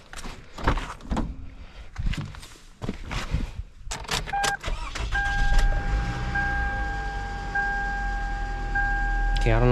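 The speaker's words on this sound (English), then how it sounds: "let's go ahead and start the car" A Toyota Camry, just fitted with a new alternator, cranks and catches after a brief stretch of voices and clunks, then settles into a steady idle while a dashboard chime tone sounds repeatedly.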